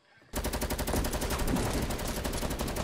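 Rapid automatic gunfire in the Fortnite video game, a dense sustained burst of shots that starts abruptly after a moment of near silence and runs loud and close to the end.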